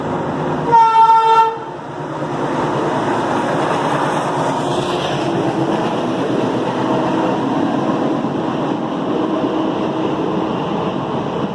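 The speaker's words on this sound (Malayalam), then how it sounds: "ഒരു ട്രെയിനും കൂടെ വരുന്നത് കാണാം കേട്ടോ നമുക്ക്." A train arrives at Muthalamada railway station, its horn sounding briefly near the start before the steady rumble of rolling wagons fills the rest, fairly loud and continuous.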